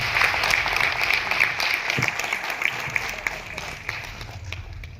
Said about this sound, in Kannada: ದಯವಿಟ್ಟು ಅವ್ರಿಗೋಸ್ಕರ ಒಮ್ಮೆ ಚಪ್ಪಾಳೆ